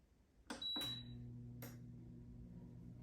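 A Power XL air fryer started with its start button: a couple of sharp beeps, then a steady low hum as the unit begins running, quiet and close.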